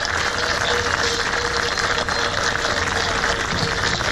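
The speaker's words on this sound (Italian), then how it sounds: "Vi facciamo un applauso a Carmelo" Applause for a young man about to be ordained deacon, at an outdoor helmet blessing for a motorcycle club in Lecce; steady, dense clapping from a crowd, loud and continuous throughout.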